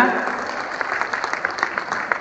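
A seminar audience applauds its three speakers, a sustained even patter of many hands clapping at moderate distance, with a few sharper individual claps standing out.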